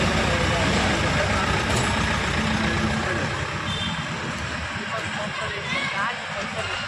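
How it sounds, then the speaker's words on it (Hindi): An official's vehicle pulls away at a Hanuman temple gathering, engine rumble and a series of beeps carrying over a noisy outdoor crowd with voices talking, fading slightly as it goes. "सीओ साहब का गाड़ी जा रहा है।"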